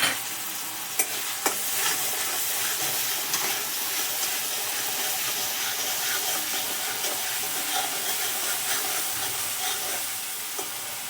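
Crushed garlic, green chili and cumin fry in oil in a pan, giving a steady close hiss and sizzle while a utensil stirs with a few sharp clinks near the start, without speech.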